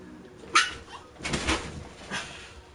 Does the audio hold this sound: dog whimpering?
yes